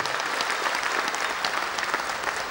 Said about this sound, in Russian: дорогие друзья, ваши аплодисменты.